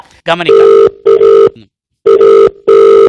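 A telephone rings in four loud electronic bursts separated by short gaps, preceded by a brief, faint voice.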